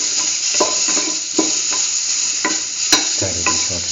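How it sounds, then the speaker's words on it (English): Spices are stirred into a frying instant noodle mixture with tomato and bell pepper, a loud continuous sizzle with intermittent scraping strokes of a spoon against the pan, close up and without speech. "stir it in short enough, mix in the mixture spices"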